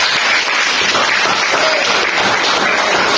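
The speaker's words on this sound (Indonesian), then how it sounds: "Oke, beri aplaus dulu dong." A classroom crowd of students applauds, a dense and steady burst of clapping that stays loud and even throughout, with no talk over it.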